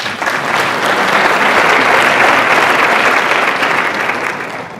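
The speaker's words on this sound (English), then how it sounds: "round of applause" An audience at a film Q&A event for Emanuel at Howard University bursts into sustained clapping, a dense loud wash of applause that swells and holds for several seconds before tapering slightly.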